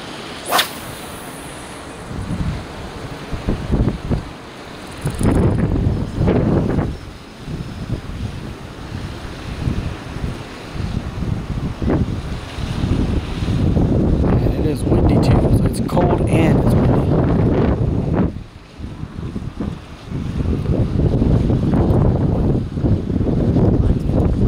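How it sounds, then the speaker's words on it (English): Strong wind buffets the microphone during a striped bass fishing trip from a boat, a loud continuous roar with gusty surges and brief lulls and a sharp whip-like swish near the start, while people talk beneath it. "We're casting with the wind today."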